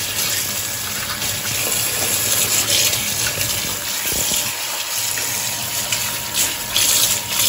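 Tap water gushes steadily while pork is washed under it, a continuous loud rush with occasional splashes and shifts as the meat is handled.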